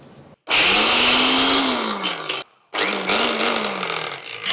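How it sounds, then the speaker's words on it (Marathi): A mixer grinder runs dry, grinding peanuts, coconut and garlic without water in two loud, whirring bursts split by a short pause. The motor's pitch rises and sags as the jar loads, with no talking. "आता पाण्याचा थेंबरही न घालता हे मिक्सरला डुरकन फिरवून घ्यायचं"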